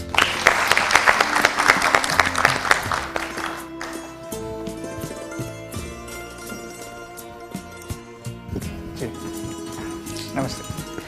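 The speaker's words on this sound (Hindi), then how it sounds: "जोरदार तालियों के साथ गजाला जी।" A studio audience at an addiction-awareness show bursts into loud applause to welcome a guest, then the clapping gives way to music with scattered hits.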